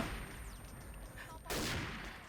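Bursts of AK rifle fire from the shooting game XSHOT, fairly faint at first and then a louder, denser stretch of fusillade in the second half, with no voices.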